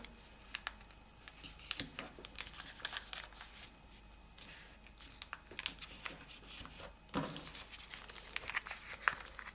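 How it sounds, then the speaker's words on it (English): Paper is creased and folded by hand while making an origami snowflake, giving quiet crinkles, rustles and sharp little snaps at irregular intervals, close up with no voices. "So you first fold the angle bisector."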